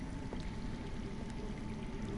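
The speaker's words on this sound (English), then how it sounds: "I hear water. From underground." Running water underground in a Game of Thrones video game, a continuous rushing, pouring wash that stays steady and fairly loud with no other sounds over it.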